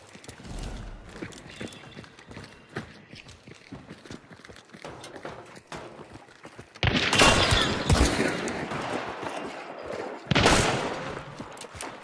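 Gunfire in a bounty hunt video game, with scattered sharp shots and bursts over galloping hoofbeats, then two loud, dense volleys of rapid fire that dominate near the end.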